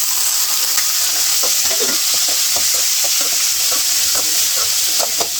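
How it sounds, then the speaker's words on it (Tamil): Onion and tomato sauté in a pan after mustard seeds and vadagam go into the tempering, with a loud continuous sizzle and repeated scraping stirs, and no speech. "இப்போ வெங்காயம் தக்காளி வதக்கிக்கலாம்"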